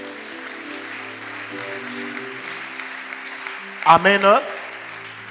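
A congregation claps during a Pentecostal church service, with a continuous patter of applause under sustained keyboard chords and a voice calling out briefly near the end.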